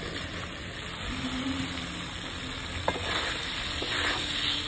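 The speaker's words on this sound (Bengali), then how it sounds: "একটু গ্রেভির সঙ্গে পনিরটা ভাজা করে নেবো" Steady sizzling of paneer frying in palak paneer gravy in a pan, with a soft stir or clink near the end; no voices.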